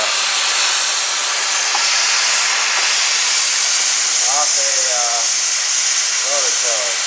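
A metal bracket is cut from an old rototiller knife, giving a loud, continuous harsh hiss like a grinder or cutting disc biting steel, steady throughout and close. Faint tonal squeals rise over it near the end.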